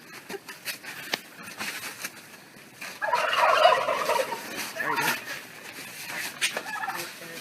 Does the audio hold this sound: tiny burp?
no